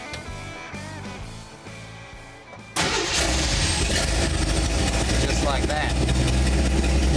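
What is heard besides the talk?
Jeep 258 cubic inch six-cylinder engine starting with EFI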